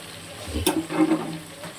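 A brief splash of water pours into a pot of simmering soybean curry, a single short burst of liquid that fades within a second against quiet kitchen background.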